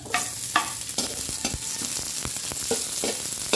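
Garlic and onion sauté in hot cooking oil, giving a loud, steady sizzle with occasional clinks and scrapes of a stirring utensil against the pan, close by.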